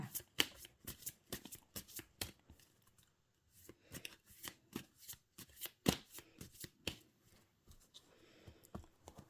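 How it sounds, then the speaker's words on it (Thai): A deck of Gypsy fortune-telling cards is shuffled and cut by hand, making quiet, close, rapid riffling and slapping sounds in uneven bursts with brief pauses. "ขอเป็นตัวแทนสับไพ่ตัดไพ่ให้คนเกิดวันพฤหัสค่ะ"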